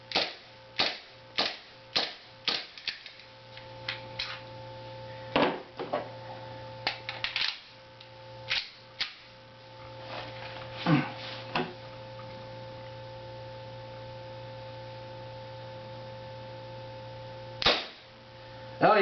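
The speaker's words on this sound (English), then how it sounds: "now since it's empty, I'm going to cycle it just to make sure that it runs properly" An empty airsoft gun is cycled by hand, producing sharp mechanical clacks in a quick, even series, then scattered single clicks and one last loud snap over a steady electrical hum.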